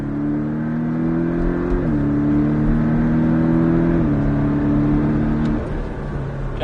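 Porsche Cayman S engine pulling hard on a racetrack, a steady loud drone rising in pitch with brief dips at gear changes, close and continuous with no talk over it.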